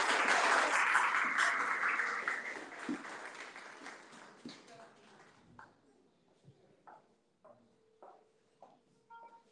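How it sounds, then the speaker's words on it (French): A church congregation claps to welcome a sister named Grâce, loud dense applause at first that thins and fades into scattered, fainter claps and a few isolated sharp hits near the end. "Est-ce qu'on peut la encourager avec les applaudissements?"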